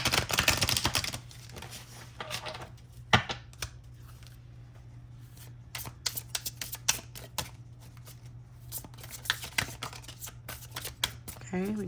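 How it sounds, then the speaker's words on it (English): Barbie Dream House oracle cards are shuffled during a pick-a-pile tarot reading, giving a run of crisp, close riffling and tapping bursts over a steady low hum, with a voice heard in the background. "Let's get a good shuffle here for you,"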